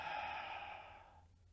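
A single long, breathy exhale during Pilates practice, close and soft, a steady airy hiss that slowly fades out over about a second and a half, with no speech.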